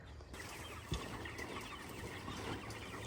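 Chickens in a chicken tractor cluck and murmur at close range in a steady, quiet stream, with a soft bump or thud near the start.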